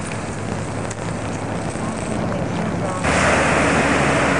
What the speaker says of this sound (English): And here we are on the beach.